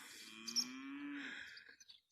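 A cow on a farm pasture gives one long, low moo close by, holding for about a second before trailing off, with faint outdoor noise around it and no talk.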